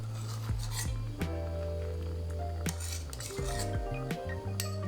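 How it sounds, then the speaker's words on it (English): A spoon scrapes and clinks against a pot while skimming foam off simmering rhubarb and strawberry jam, giving a series of close metallic taps and scrapes over a steady low hum. "I like to remove it carefully with a spoon"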